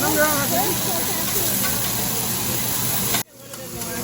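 Food fries in plenty of hot oil in a restaurant kitchen, a dense steady sizzle and hiss that cuts off abruptly near the end, with a voice speaking faintly at the start.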